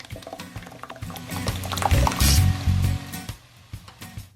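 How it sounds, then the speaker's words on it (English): Thick marinara sauce pours and plops into a pot of vegan soup, a wet squishing glug that swells in the middle and trails off, close up with no talk. "Add some marinara sauce."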